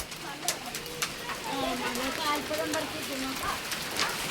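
Hailstones falling outdoors make a steady, dense patter that holds throughout, with a few sharper knocks and faint voices talking underneath.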